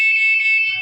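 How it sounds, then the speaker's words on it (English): A waterproof 500 m remote dog trainer beeper collar gives a bright, piercing electronic tone, close and loud, held steady for under a second with no other sound. "And then the fourth is 3 beeps."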